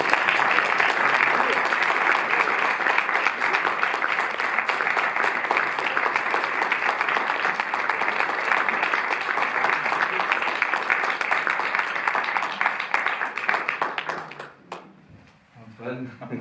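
A theatre audience applauds the actors with dense, sustained clapping for about fourteen seconds before it tapers off, and a voice follows faintly at the end.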